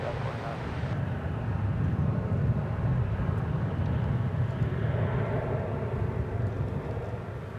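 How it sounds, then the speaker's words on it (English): Spirit Airlines Airbus A320neo jet taking off over a bridge at Dallas-Fort Worth airport, a steady broad roar holding loud throughout, with indistinct talk faintly mixed in. "As a Spirit A320 Neo heads off to Fort Lauderdale over the bridge."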